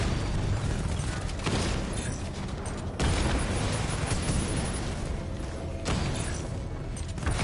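Explosions as the main cannon is destroyed in the video game Batman Arkham Knight: a dense, loud wash of booming blasts and mechanical clatter, with sharper bursts around the middle and again near the end.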